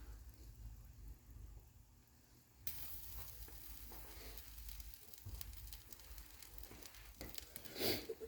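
Hot sauce and about a stick and a third of melted butter sizzle in a pan for wing sauce while being stirred constantly. After a quieter start, a steady, faint crackling hiss sets in abruptly and continues throughout.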